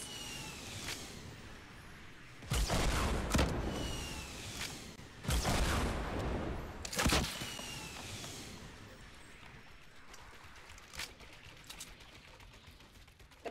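Rocket launches and explosions from a Fortnite Battle Royale match, with three loud broadband blasts spaced a couple of seconds apart over steady game ambience, followed by a few smaller sharp pops.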